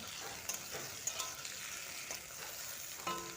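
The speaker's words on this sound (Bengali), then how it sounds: "টমেটোটা দিয়ে আর একটু ভেজে নেব" Onion, green chili and tomato frying in a pan, a quiet steady sizzle with a few light stirring clicks, close by and without talk.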